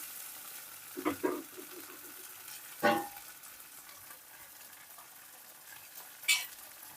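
Pointed gourd fries in a pan with a faint, steady sizzle, broken by a few soft clanks as a spatula gently turns the pieces.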